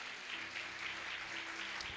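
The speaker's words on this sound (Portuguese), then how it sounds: "Dá uma salva de palmas ao Senhor." A church congregation claps in applause, a continuous, moderately quiet spread of hands clapping together with a faint low hum underneath and no one speaking over it.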